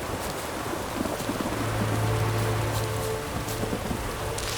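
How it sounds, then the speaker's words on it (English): Steady rain falling during a thunderstorm in the video game Witcher 3, a continuous hiss with a low rumble swelling in the middle, no speech. "The storm, damn it."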